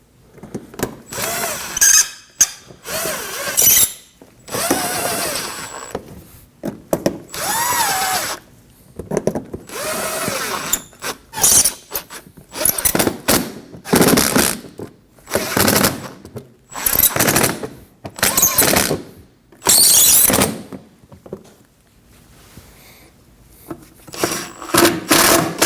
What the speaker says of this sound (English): We can install the screws into the front side of the fender.